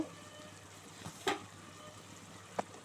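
Spices such as chilli powder and coriander powder sautéing in a pan with green chillies, shallots and tomatoes for a village-style bottle gourd fish curry: a quiet, steady sizzle with a few soft stirring clicks and scrapes, no voices.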